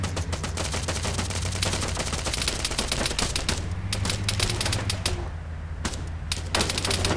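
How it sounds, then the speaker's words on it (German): A crew opens fire in an animated King of the Hill scene, producing dense, rapid, continuous gunfire that rattles on loudly with almost no gaps. "Schießen, alle Mann, schießen!"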